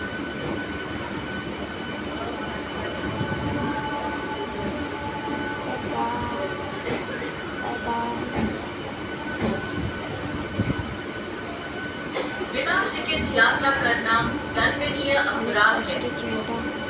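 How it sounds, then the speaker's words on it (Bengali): A local train running out of Dum Dum station: a loud, continuous rumble of wheels and carriages with rattles and squeals, heard from on board, while voices murmur throughout. "ট্রেনটা পেয়েছি"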